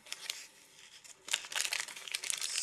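A plastic bag crinkles and rustles as an item is pulled out of it while unpacking a bushcraft haul, starting with a few soft crackles and turning into a busier, louder stretch of crinkling up close.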